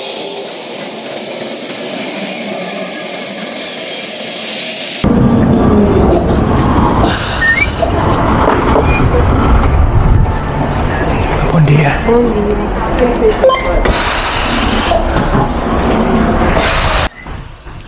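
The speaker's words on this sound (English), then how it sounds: "The iconic Lisbon trams," An iconic Lisbon tram rolls along its rails in the Bairro Alto, starting after a quiet stretch with a loud grinding rumble, metallic wheel squeals and clanks close by, while a few people speak briefly over it.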